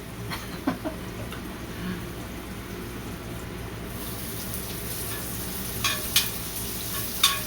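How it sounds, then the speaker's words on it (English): Onions caramelizing in a pan at breakfast-time cooking, a steady soft sizzle with occasional scraping stir strokes, a few sharper clinks near the end, no talking. "Caramelize these onions"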